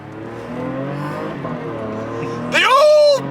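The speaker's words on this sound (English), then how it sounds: "The old PDK! And that noise that it makes" Porsche PDK dual-clutch gearbox car accelerating hard, engine note rising through a loud sweeping rev with a quick upshift near the end, after a steady drone of cabin engine noise.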